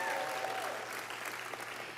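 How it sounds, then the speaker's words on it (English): Audience at a veterans' startup pitch contest during a national convention applauds, steady dense clapping at a moderate level, with a faint voice briefly present at the start. "get a round of applause for Greg"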